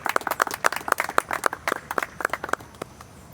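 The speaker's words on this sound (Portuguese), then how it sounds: "Aplauda Jesus." A church congregation claps along in a steady, rhythmic beat, roughly a dozen distinct claps spaced evenly at moderate volume, then it fades out near the end.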